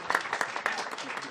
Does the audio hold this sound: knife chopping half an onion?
no